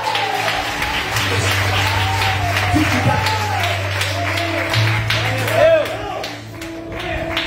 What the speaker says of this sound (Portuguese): adore e aplauda ao Senhor